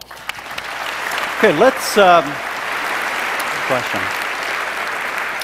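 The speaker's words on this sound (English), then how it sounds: "We like the applauding, so please continue that throughout the debate." Steady audience applause fills a debate hall, a continuous hiss of many hands clapping heard throughout, while a moderator's voice speaks briefly over it.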